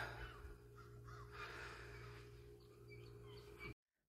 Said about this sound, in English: Seagulls and crows will dig into garbage sometimes.